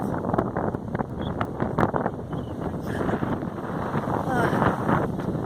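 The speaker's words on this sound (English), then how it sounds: "this wind is whipping" Heavy wind buffets the microphone in a steady roaring rush, with gusts swelling and fading throughout.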